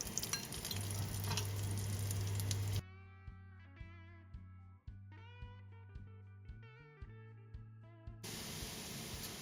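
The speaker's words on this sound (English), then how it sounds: "So I threw in some butter. I'm gonna go ahead and mix that around." Butter sizzles in a hot pan for caramelized onions, a hissing frying noise at the start and end, with music taking over in between.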